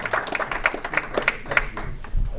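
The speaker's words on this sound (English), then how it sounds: "A little applause for Scott." Brief applause from a conference audience at a talk on reshoring and total cost of ownership, with scattered hand claps sounding at moderate distance and gradually thinning out.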